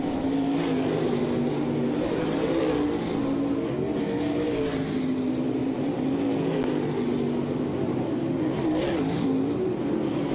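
Race cars lap at Southern Ontario Motor Speedway, a loud continuous roar of engines with waves of revving as the pack sweeps by, dense and unbroken throughout.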